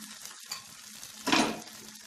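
A rava uttapam topped with tomato, onion and capsicum cooks on a griddle, giving a faint, steady sizzle that swells briefly into a louder hiss before settling again.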